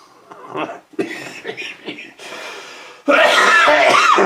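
A few short, harsh coughs close to the microphone, with brief pauses between, ending in a louder, rougher burst of throat noise.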